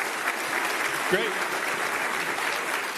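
An audience at a college summit session in a media center applauds the presenters with steady, moderately loud clapping, while someone briefly speaks over it partway through.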